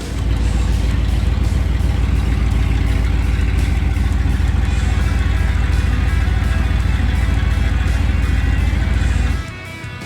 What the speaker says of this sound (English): those open headers sounded so good